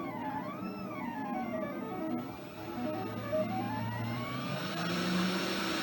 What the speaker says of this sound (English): I've got working spindle control now from this box, so I can increase the speed from nothing